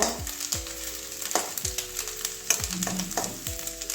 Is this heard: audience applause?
no